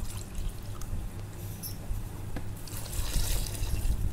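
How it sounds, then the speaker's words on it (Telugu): Water poured into a vanilla-strawberry milkshake mix, with steady splashing and dripping liquid close by, slightly louder toward the end. "తర్వాత మనం వాటర్ యాడ్ చేసుకుందాం"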